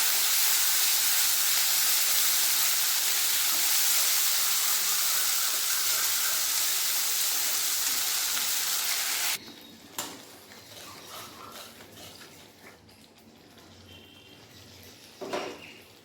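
Ground spice paste is dropped into hot oil with whole garam masala and a bay leaf for a vegetarian milk paneer dish, producing a loud, continuous sizzle that drops suddenly to quiet, faint kitchen clatter.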